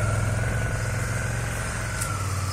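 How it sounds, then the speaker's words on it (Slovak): A motorcycle engine runs steadily during a riding lesson, with a constant loud near drone and no clear rise in revs. "Trošku otáčky potrebujem počuť. Chcem ich počuť, tie otáčky."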